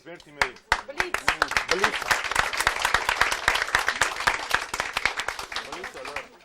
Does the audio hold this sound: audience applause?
yes